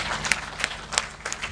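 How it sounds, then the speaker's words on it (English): Audience applause at the Kigezi Investments Summit, a short burst of scattered claps, fairly close, with no talking. "let us put our hands together and clap for him"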